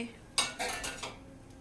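A few soft clinks of a serving spoon against a plate as rice is served, quick and close, then quiet.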